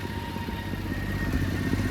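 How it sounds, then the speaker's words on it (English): A Toyota Land Cruiser engine idles steadily with a low, rough rumble and faint ticking clatter, consistent with a possible exhaust leak and a slight low-RPM misfire, heard up close and alone. "maybe an exhaust leak, maybe, and also a small misfire at low RPMs"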